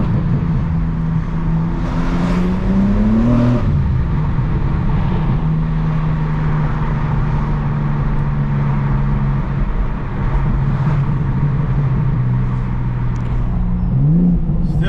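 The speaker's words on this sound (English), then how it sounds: "The burbles sound way more synthesized." BMW G82 M4 on its stock exhaust with a catless downpipe, idling and blipping through steady low engine tones, with two or three throttle rises and faint burbles, close by and with no talking.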